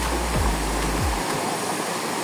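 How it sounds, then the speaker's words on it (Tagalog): A shallow creek crossing on the Hinipaan Falls trail rushes steadily and loudly nearby as a constant wash of flowing water. "Ito ay pangalawang sapa na natin."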